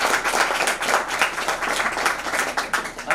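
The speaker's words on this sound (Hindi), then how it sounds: "एक जोरदार तालियां" Loud, dense applause from a gathered crowd at a retirement ceremony, with many hands clapping steadily and close, with hardly any voices.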